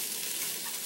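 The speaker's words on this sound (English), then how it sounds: "when this stops sizzling, I'll put this in with the pasta" Frozen green beans sizzling in a hot pan, a brief, steady hiss of frying heard close with no talking.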